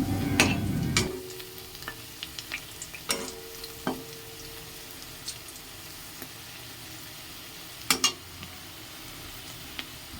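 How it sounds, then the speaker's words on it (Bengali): Cabbage pakoras deep-fry in oil with a soft, continuous sizzle. A louder bubbling burst comes at the start, and sharp utensil clinks are scattered throughout, close by with no voices. "এই দেখো আমার বাঁধাকপির পকোড়া ভাজা হয়ে যাচ্ছে"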